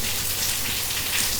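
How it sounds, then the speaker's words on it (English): Steady rain pours down in a dense, even hiss of drops hitting surfaces, close and continuous with no voices. "I find, rain like this really relaxing."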